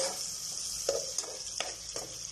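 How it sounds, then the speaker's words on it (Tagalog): Garlic and onion sautéing in butter give a steady, close sizzling hiss throughout, with a few soft stirring scrapes and taps breaking in now and then. "nagisa na siya ng bawang, sibuyas sa butter"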